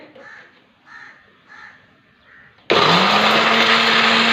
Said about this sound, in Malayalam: അങ്ങനെ നമ്മൾ മിക്സി ഓൺ ചെയ്യാൻ പോവാണേ